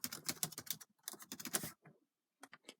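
Rapid keystrokes on a computer keyboard as a password is entered while installing Linux Mint on a Dell Inspiron E1705 laptop; quiet, close clicking in quick bursts with short pauses, no talking.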